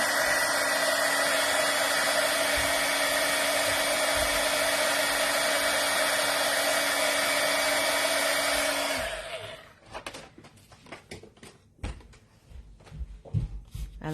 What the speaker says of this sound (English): So I had to get my heat gun out again.